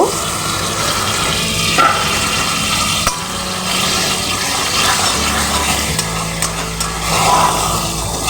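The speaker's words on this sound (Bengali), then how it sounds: "মশলাগুলো একটু ভালো করে আমি কষিয়ে নেব এক মিনিটের জন্য" Ground spice masala fries in hot oil in a pan for a Bengali fish curry (macher rosha), giving a steady, loud, broadband sizzle that continues evenly throughout.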